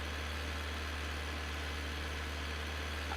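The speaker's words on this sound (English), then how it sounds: "the sound of this tractor has drowned me out because it is incredibly loud" A tractor engine in Farming Simulator 19 drones loud and constant, a steady low idle rumble with vibration that runs unbroken through the whole moment.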